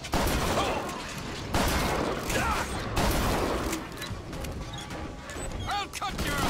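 Gunfire from the BioShock Infinite video game, a dense fusillade of repeated shots with crashes and mechanical clatter, loud and continuous, mixed with game voices talking over the battle.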